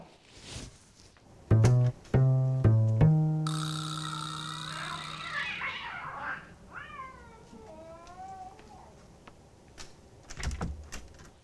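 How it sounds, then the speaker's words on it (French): A cat meows in a few short, tonal calls, followed by longer wavering cries, close and clear with no talk. "Oh, sûrement un chat."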